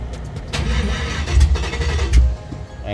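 An LS-swapped OBS truck engine with no tune turns over and catches, with low rumbling bursts and a couple of loud surges before settling into a rough idle.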